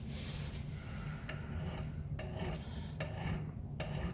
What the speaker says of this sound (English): Now when I'm filing, I'm not actually pushing down on the file. I'm just kind of running it past.